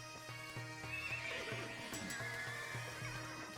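Horses in the game Age of Empires 2 neigh and whinny repeatedly, with clip-clop hooves underneath, close and clear with no talking.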